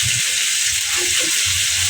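Tomatoes tossed into onions already frying in a pan give a steady, loud sizzling hiss, with soft low thumps of stirring near the start and end.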